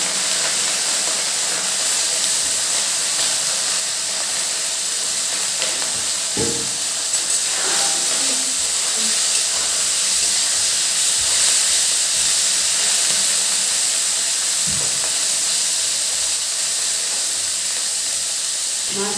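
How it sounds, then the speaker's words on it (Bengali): Small fish fry in hot oil, a loud steady hiss and sizzle that goes on throughout, broken by a few faint knocks and clinks close by. "মাছটা ভাজাতে থাক"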